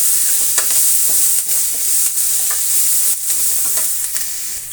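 Onions sauté in a pan with a steady sizzle, interrupted by repeated scraping strokes of a spoon stirring them.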